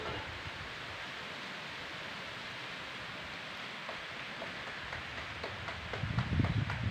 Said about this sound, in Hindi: लो जी बारिश तेज हो गई